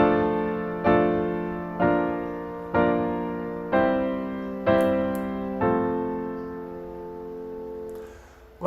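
Six piano chords struck one after another at an even, unhurried pace as a simple warm-up exercise, each ringing and decaying before the next, played alone and close, with the last chord left to fade.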